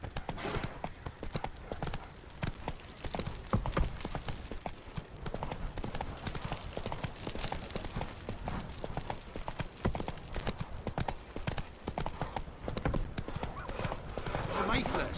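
Horse hooves clip-clop at a steady gallop through the Witcher 3 video game world, a continuous rhythmic pounding with occasional whinnies under a game soundscape, while voices talk over it.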